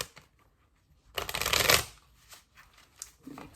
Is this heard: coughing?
no